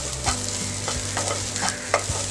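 Onions stir-fry for egg Schezwan rice, a loud, close sizzle punctuated by repeated spatula scrapes and knocks against the pan.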